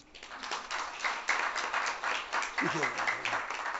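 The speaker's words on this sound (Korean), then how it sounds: "박수 한번 치고 보겠습니다" Workshop lecture audience breaking into a short round of applause, a moderate patter of clapping while a voice carries on over it.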